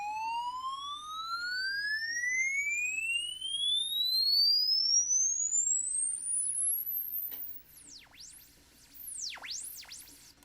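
A sine test tone run through a distortion audio plugin sweeps steadily upward in pitch, then breaks into repeated falling and rising swoops, thin and electronic, with no voices.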